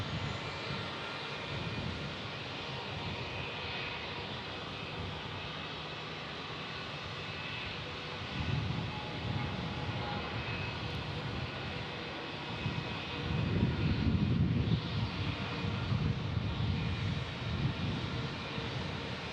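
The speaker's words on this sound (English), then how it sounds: "and here comes our CRJ, Dave from North Little Rock." A CRJ regional jet at Omaha Eppley Airfield, its engines a steady, broad roar heard from the field, swelling slightly louder toward the end, with no talking.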